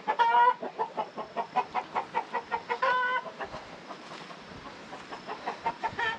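An old rooster clucks repeatedly on a rain-soaked ranch, a steady rhythmic series of close, fairly loud clucks that continue throughout without talk.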